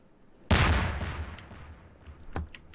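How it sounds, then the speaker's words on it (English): A grenade blast in a video game: one sudden loud close boom with a long rumbling decay, followed by a couple of fainter sharp reports. "That's a loud grenade."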